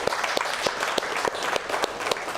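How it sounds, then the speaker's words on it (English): An audience at a talk on design gives steady applause, a dense patter of many hands clapping at close range, with sharper individual claps standing out and no voices over it. "Can I have a round of applause for Ginny and Shay"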